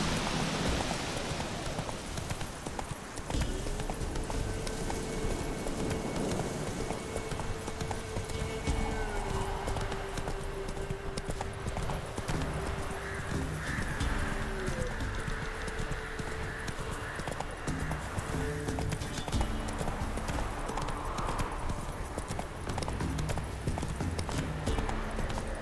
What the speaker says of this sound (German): Oh, richtig viele Pferde schon hier.